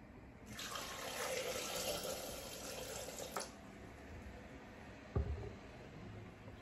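Water pours from a tap into a Thermomix bowl holding 500 grams of cherries, a steady close splashing rush lasting about three seconds before cutting off, followed by a single knock.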